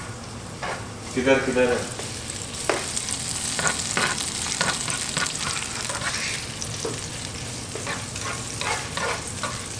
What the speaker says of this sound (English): After the oil is hot enough, put chilies.